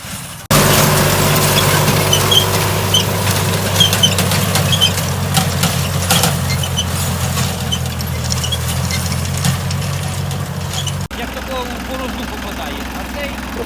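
A DTZ 5354HPX 35 hp compact tractor engine runs steadily near the microphone with a continuous low diesel drone and knocking rumble, cut briefly at the end, while someone speaks over it.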